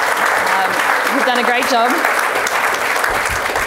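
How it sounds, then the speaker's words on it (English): An audience applauds two panellists at a business event, a steady broad wash of clapping that runs the whole time while someone speaks over it. "Can everyone give me a big round of applause for our two fantastic panellists?"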